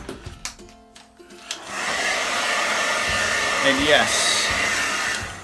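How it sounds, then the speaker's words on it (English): A handheld blow dryer on a warm setting dries a beard, switching on after a few soft handling noises and a brief spoken phrase, then whirring loudly and steadily up close. "Break out the blow dryer."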